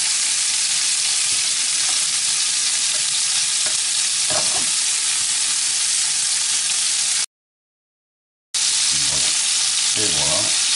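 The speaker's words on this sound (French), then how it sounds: "Alors, on va mettre à frire nos boulettes, tout simplement, qui ont été farinées." Floured beef meatballs fry in a pan, a loud steady hiss of sizzling fat broken by a short silent gap, with occasional scraping from stirring or turning.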